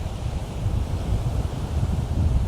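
Cold wind buffets the microphone on a North Sea beach at Ostend, Belgium, a steady low rumbling roar that swells and eases, close and loud, with no voices.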